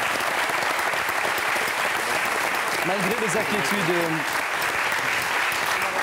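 A French television studio audience claps in dense, steady applause lasting several seconds, while a voice briefly speaks over it.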